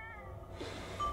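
A cat meows once, briefly, close by and fairly faint, with its tail held high as it leads the way toward a house near a forest and mountains; the call has a short wavering tone with quiet background noise around it.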